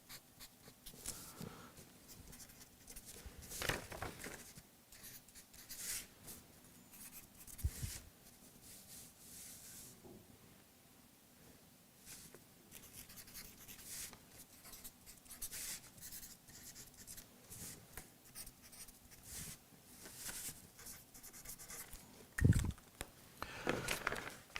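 A pen scratches across paper by hand in short, irregular strokes with pauses between them, faint and close, over quiet room tone with occasional soft knocks and rustles.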